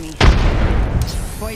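A single grenade detonation in a shooter video game, a sudden loud boom that rings out and decays over about a second, with game noise and a voice around it.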